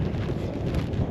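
Cold Arctic wind blows across an exposed ridge on Iceland's Laugavegur Trail, a steady, close buffeting rumble against the microphone with no letup and no voices.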